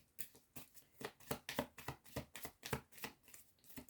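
Tarot cards riffle and snap in quick repeated bursts, roughly a dozen close crisp flicks in a steady rhythm, with no talking.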